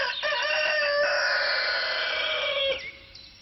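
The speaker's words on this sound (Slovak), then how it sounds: "A vieš, jak sa vypína ten kohút?" A rooster on a farm lets out one long, loud crow close by, with the call trailing off at the end.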